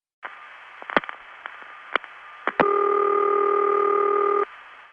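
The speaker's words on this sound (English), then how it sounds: "basically the pulsing sequence gets over with more quickly and usually makes a louder tick right before it starts the ringtone" A 1970s long-distance telephone call through the network: scattered faint clicks and pulsing ticks, then a sharper loud tick, followed by a steady ringing tone that holds for about two seconds before cutting off.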